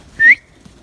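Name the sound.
person whistling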